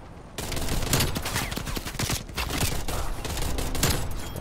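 Type 63 rifle gunfire in the video game Black Ops Cold War rattles in rapid, dense volleys that carry on almost without pause after a quiet start, loud and close.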